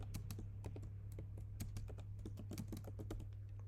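Code being typed on a computer keyboard: a steady run of quick, close key clicks with irregular spacing over a constant low electrical hum, with no talking.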